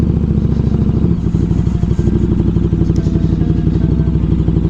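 Motorcycle rolling slowly over gravel, its mid-pitched engine chugging steadily up close with a loose clatter underneath and no speech.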